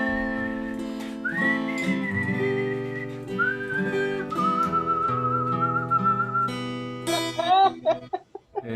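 A man whistles the Lassie TV theme, a clear solo melody of sustained bright notes and slides that ends in a quick flurry, close and alone without talk.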